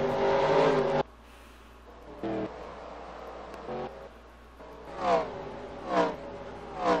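Race cars in a Pokemon-themed racing video game at Silverstone roar loudly at first, then several engines rise and fall in pitch in short revving bursts as the cars come down pit row.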